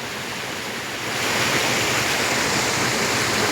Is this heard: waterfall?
yes